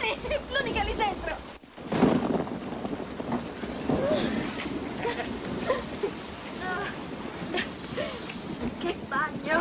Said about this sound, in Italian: arriva un acquazzone